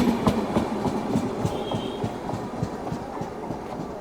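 A train slowly rolls past Koratti Angadi station without stopping, its wheels beating a steady clickety-clack over a continuous rumble, loud and close, with no voices.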